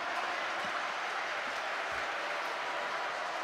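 A crowd at a women's bouldering semi-final in Bern claps steadily, a dense wash of applause held at a constant moderate level throughout with no distinct individual claps standing out.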